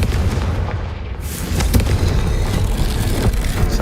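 A Confringo fire spell in Hogwarts Legacy bursts into a sudden explosive boom, followed by a sustained rumbling roar and crackle that stays loud to the end.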